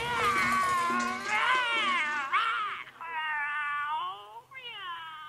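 A house cat in an animated story yowls and caterwauls in a long, wavering, drawn-out cry that rises and falls, moderately loud and alone, with no talking.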